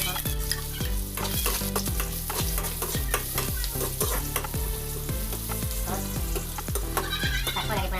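Sliced onions sizzling in a hot pan while cooking adobo, a steady frying hiss with stirring, running beneath prominent background music.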